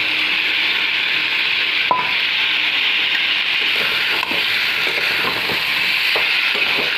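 Young jackfruit curry stir-fried with spices gives a loud, steady sizzle, with scraping and occasional knocks from stirring and no talking.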